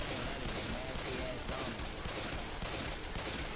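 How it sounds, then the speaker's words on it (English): Dense, continuous gunfire from the co-op zombie shooter game Left With Friends 2, a noisy wash of overlapping shots with no clear individual bursts. "Stop shooting at us!"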